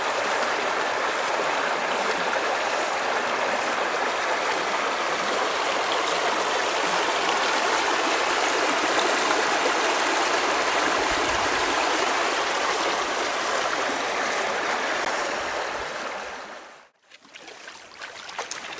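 A mountain stream flows in a steady, full rush of water on an outdoor hike, loud and continuous until it drops off abruptly near the end.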